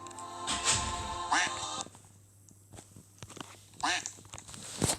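Squeaky rubber duck quacks inside a Roblox game, a few short honking squawks in bursts between stretches of excited talk from a player.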